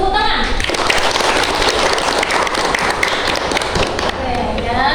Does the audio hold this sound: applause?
yes